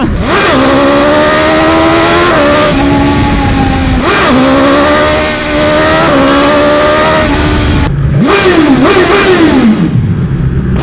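A 2021 BMW S1000XR motorcycle with a 1000 cc engine from the S1000RR accelerates hard and close up, its loud rising howl climbing through repeated gear changes before easing off near the end.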